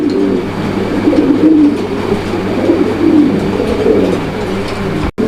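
Fancy pigeons coo in a continuous, loud, close-up stream of overlapping throaty calls, rising and falling in rolling phrases before a sudden cutoff at the end.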